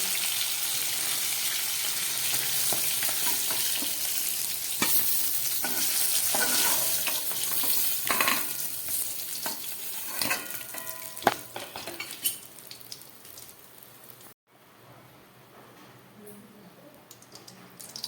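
Katla fish sizzling and frying in hot mustard oil in a pan, a dense, steady crackle that runs continuously, with a few faint utensil clinks and a brief dropout near the end.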